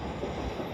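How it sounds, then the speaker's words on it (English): Close rumble of a passing train at Primrose Hill, a dense, steady roar of wheels on rail with faint clatter, loud and continuous throughout the short moment. "Two trains racing each other at the same time."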